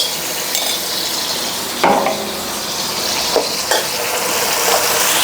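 Ingredients for nam prik ong, with garlic and shallots, stir-fried over low heat in a pan, giving a steady soft sizzle broken by a few scraping strokes of a spatula, with no talking.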